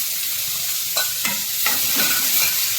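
Potatoes fry in oil with mustard seeds, asafoetida and a red chili as a spoon stirs them, giving a steady sizzle broken by several distinct scraping strokes at close range.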